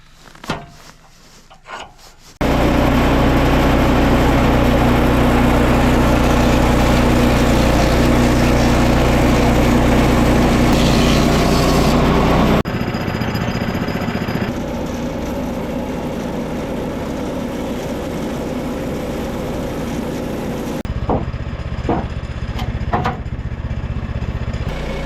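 Woodland HM122 sawmill cutting timber outdoors in snow, its small engine running loud and steady with the blade rasping through the log for about ten seconds, then settling to a lower idle with scattered knocks and clatter.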